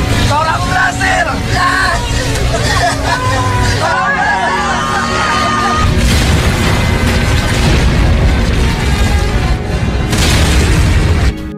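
A large explosion destroys a Dutch military airfield base in a 2010 Indonesian war film, a loud sustained boom and rumble layered over dense action-scene noise, shouting and crowd clamor throughout.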